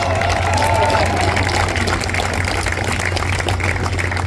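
Large audience at the Rescue the Republic event applauding for organiser Brett Weinstein, a steady dense wash of clapping and crowd noise that holds loud and even from start to finish.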